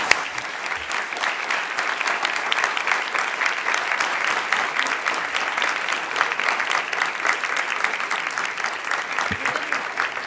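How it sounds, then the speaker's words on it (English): A large audience at a science talk claps steadily for about ten seconds, a dense, even roar of hands that neither builds nor fades. "Let's have another round of applause."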